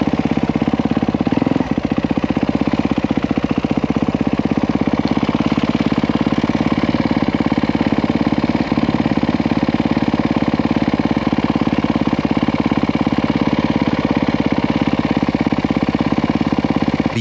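A Yamaha YZ450F dirt bike engine runs loud and close, holding a steady, rough, knocking drone with no gaps from start to finish and no voices over it.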